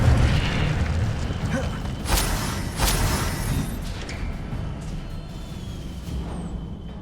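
An Incendio fire spell goes off in Hogwarts Legacy with a loud booming whoosh and bursts of flame, a couple of sharp hits midway, then a roaring rumble that slowly settles.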